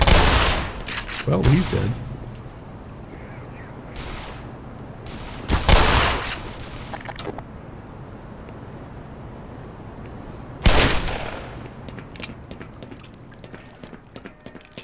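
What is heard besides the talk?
Magnum revolver gunshots in video game Black Mesa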